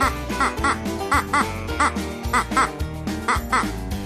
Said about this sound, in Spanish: Con su entrañable cuac cuac, estos pequeños patitos se comunican con su madre y entre ellos